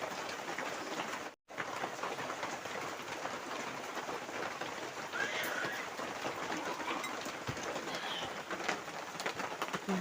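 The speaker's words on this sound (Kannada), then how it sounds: "ಇವತ್ತು ನೋಡ್ರೆ ಸಖತ್ ಮಳೆ" Heavy rain pours steadily in a village setting, a dense, continuous hiss of drops on surfaces, loud and close throughout with one brief break near the start and no talk.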